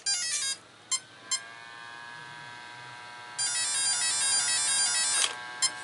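RC car electronic speed controller on a Castle Sidewinder 4 emitting electronic tones as it powers up for calibration: short beeps, a long sustained tone, then a louder warbling sequence and a final blip, close and clear with no voices.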